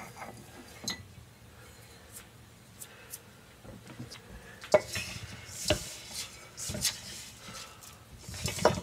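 A rye flour and water sourdough starter being mixed well in a pint jar: quiet, irregular clinks and scraping taps of the stirring, some sharper knocks against the glass, close and fairly soft throughout.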